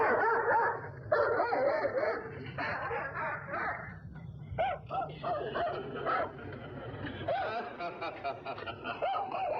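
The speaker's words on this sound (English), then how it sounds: "tell him to take that howling mutt with him" A dog barks in repeated bursts with yelping, whining notes, loud and fairly close, while voices murmur in the background.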